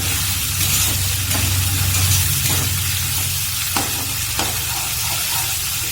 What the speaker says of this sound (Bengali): খুব ভালো করে নাড়বো।